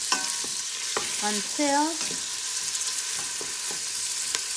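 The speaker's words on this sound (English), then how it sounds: "I have about 1 tablespoon of coconut oil in the pot. I'm gonna add my onions. We're gonna cook the onions" Onions sauteing in about a tablespoon of coconut oil in a pot make a soft continuous sizzle with occasional utensil clicks and a brief tonal squeak, while a voice speaks a single word.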